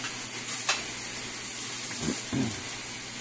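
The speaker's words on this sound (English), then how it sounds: "We're going to take our squirrel and get it to where it's starting to sear pretty good" Squirrel sears in a very hot skillet with olive oil, producing a steady, close, loud sizzling hiss throughout with a couple of soft low thumps near the end.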